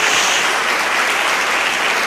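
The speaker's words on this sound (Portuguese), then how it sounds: "Dê uma salva de palmas a Jesus" A church congregation claps for Jesus during a Portuguese-language sermon, a dense, steady roar of many hands filling the space at close range for the whole stretch, with no voices rising above it.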